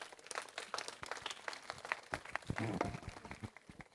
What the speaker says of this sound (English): Can we have a huge round of applause to all the winners?